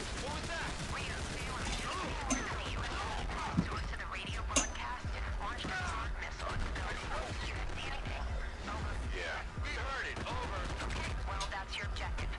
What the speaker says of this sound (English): Shoot these guys.